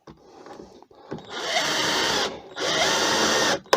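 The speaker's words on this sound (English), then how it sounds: "just screw it down." A power drill drives screws into scrap wood while building a sharpening jig for wood turning, heard as two sustained whirring bursts of about a second each with a short pause between, close and fairly loud.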